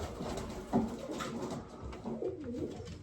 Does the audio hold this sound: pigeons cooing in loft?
yes